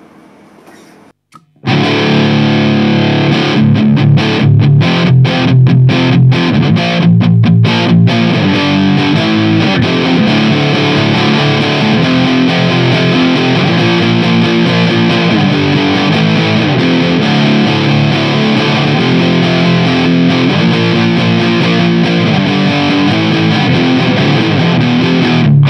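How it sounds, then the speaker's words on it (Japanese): An electric guitar plays through a BOSS MD-2 pedal set with distortion at zero and only the gain boost raised, giving a loud, continuous, crunchy overdriven tone of chords and riffs that starts abruptly after a short quiet lead-in and runs throughout without talk. "ディストーションむしろゼロで、ゲインブーストだけ上げてみます。"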